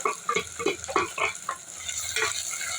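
Sliced onion dropped into hot oil already crackling with popped mustard seeds and three dried red chillies, sizzling and frying steadily with bursts of spattering and stirring, close and alone.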